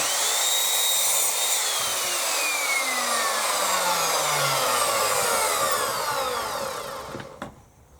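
A power saw rips through a length of timber for a shed extension, giving a loud, continuous close-up whine with a slowly falling pitch for about seven seconds before the blade spins down and stops.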